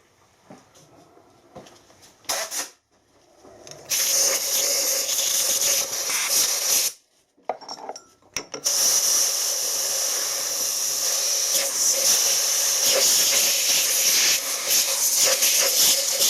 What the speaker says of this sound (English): Airline's the best way to clean this out, but obviously you've got to be careful what you're doing with compressed air and bits of metal swarf.